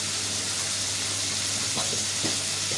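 Chopped tomatoes and coriander leaves frying in a pan give off a steady, close hiss and sizzle, with a few soft scraping stirs near the end and no talking.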